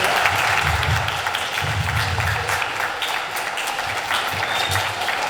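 An audience at an addictions conference gives loud, sustained applause, many hands clapping densely and evenly with no pauses from start to finish.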